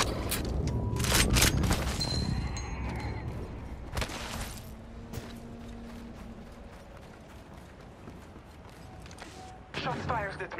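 Apex Legends match with scattered gunshots and impacts early on, followed by quieter stretches and a final burst of fire, mixed with game sound effects and an automated character voice.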